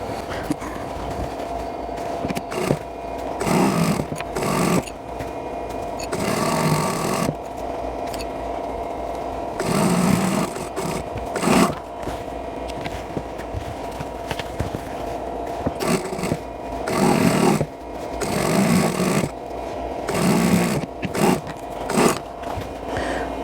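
A sewing machine stitches rows of a London Blues quilt block together. It runs in repeated bursts of motor whir of varying length, separated by short pauses, fairly loud and close. No talk.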